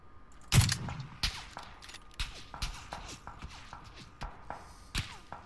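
Sharp gunshots from PUBG, likely M24 sniper rifle fire, crack out in a rapid series of loud, close impacts over game ambience, with one very heavy blast early and several quicker reports following.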